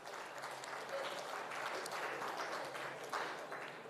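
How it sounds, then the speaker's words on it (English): A large audience at the opening of the 14th Die and Mould India International Exhibition applauds steadily throughout, a dense, even wash of clapping with no pauses. "can we have a huge round of applause?"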